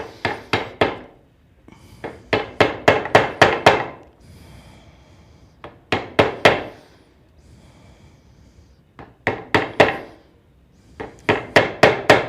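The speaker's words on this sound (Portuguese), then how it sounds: "Entre o prego e a madeira, eu bato com o macete." Wooden mallet striking a screwdriver wedged between a nail and pallet wood, sharp loud knocks in quick runs of four to six, separated by quieter pauses of rocking and scraping.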